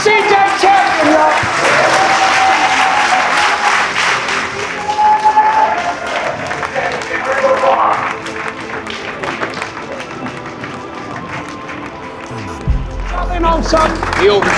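A crowd at a dunk league finale applauds loudly for the contest winner, sustained clapping over about fifteen seconds that fades in intensity toward the end, with talking and cheering mixed in and a low thump near the close.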